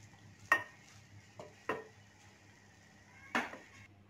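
Kimami seviyan, a sweet syrupy vermicelli, being served out with a spoon: three distinct clinks and scrapes against the dish, spaced apart, close and fairly quiet with no voices.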